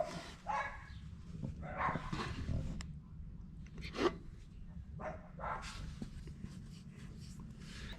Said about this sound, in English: Little dogs. They're so aggressive